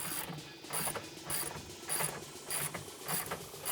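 A ratchet backs a 16 mm hitch receiver bolt out of a Jeep Gladiator, rhythmic close clicking bursts repeating about every half second, quiet and alone.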